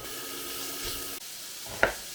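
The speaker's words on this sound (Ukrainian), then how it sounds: "розігріваємо олію та підсмажуємо шматочки м'яса" Pieces of meat fry in heated oil, a soft steady sizzle with a brief clatter near the end, fairly quiet and with no talking.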